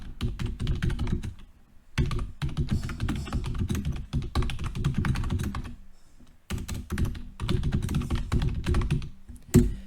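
Computer keyboard typing as text is entered into a PowerPoint table cell: steady bursts of close, crisp key clicks with brief pauses between runs, no talking.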